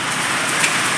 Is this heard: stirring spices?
no